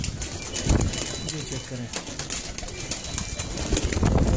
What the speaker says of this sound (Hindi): आप देख रहे हैं ये आरिफ आगरा ताज की कबूतर हैं